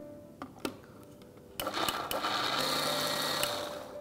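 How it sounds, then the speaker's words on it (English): A kitchen blender grinding sweet corn, milk and spring onions into a puree: a few short taps, then a loud steady whirring buzz that holds for a couple of seconds and eases off. "And now we'll grind this mixture to a fine puree."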